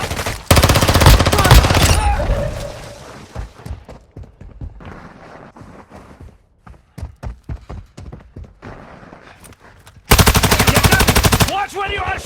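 Loud, rapid automatic gunfire in the mobile shooter Warzone Mobile, bursting in long sustained strings at the start and end with scattered single shots and thuds between.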